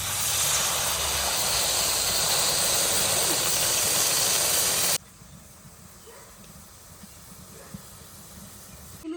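Water poured onto mung dal frying in a village kitchen pan bursts into a loud, steady steam sizzle for about five seconds, then drops abruptly to a quiet, low hiss.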